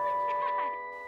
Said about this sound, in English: I think that was the doorbell.